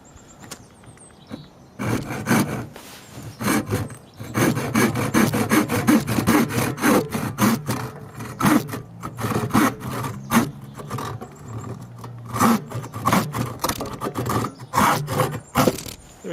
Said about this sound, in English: grab my saw and just eyeball it and saw the forks and the grip to length.